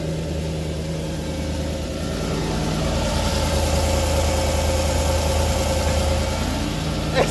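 Turbo LS V8 swapped into an IS300 settles into a steady, rumbling idle right after its first start, with a deep low drone and a faint rise in intensity midway, heard close without talk.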